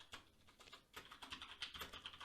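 Quiet, rapid keyboard typing, a steady patter of key clicks with short pauses, close up and alone.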